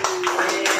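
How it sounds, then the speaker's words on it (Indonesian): Brief burst of applause from a small studio audience on an Indonesian culture podcast, dense overlapping claps with a steady tone humming underneath. "tepuk tangan dulu dong yang meriah"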